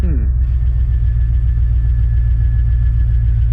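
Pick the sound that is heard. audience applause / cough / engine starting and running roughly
engine starting and running roughly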